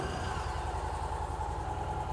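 A Victory Cross Country touring motorcycle engine running just after starting, a steady low rhythmic thrum that stays even and fairly close, with no voices.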